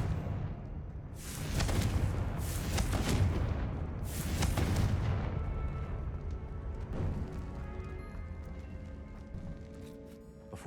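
A Confringo fire spell in Hogwarts Legacy blasts off in a string of booming, crackling bursts, several loud impacts close together, then a rumbling tail and scattered magical chimes fading out.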